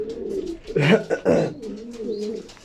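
Pigeons in a loft with young chicks coo in low, throaty, rolling calls, a couple of louder coos in the middle rising over softer murmuring, close by.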